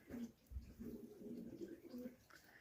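Soft, low cooing from a racing pigeon at its loft, a few faint repeated coos in a quiet outdoor setting.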